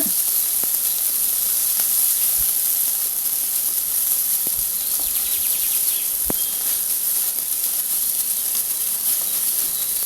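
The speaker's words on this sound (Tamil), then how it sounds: "இது கூடவே கருவேப்பிலையும் ஆட் பண்ணிவிட்டு வதக்கிடலாம்." Onions and curry leaves sautéing in a pan for idli kuruma, a steady bright sizzling hiss throughout with occasional soft clicks of stirring.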